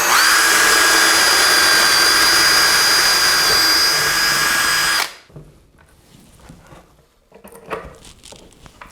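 A power drill with a 5.5 mm wood bit whines loudly and steadily for about five seconds while boring a hole in a wooden drawer, then stops abruptly, leaving faint scattered handling noises.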